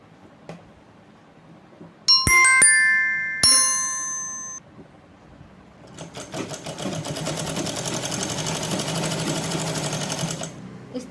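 A sewing machine runs steadily while stitching the collar of a designer suit, a sustained rattling whir near and loud that follows a few bright bell-like dings and clinks.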